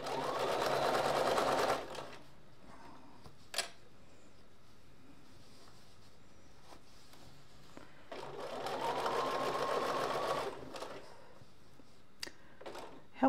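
Sewing machine stitching in two loud bursts of rapid, whirring runs near the start and middle, separated by quiet pauses with sharp clicks and taps from handling the fabric.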